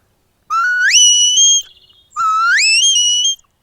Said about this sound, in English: All I would say is try to get fairly high-pitched whistles.